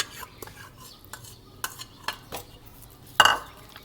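A spoon stirs spices into chicken karahi in a metal pot, with soft scraping and a few sharp clinks against the pan, spaced irregularly.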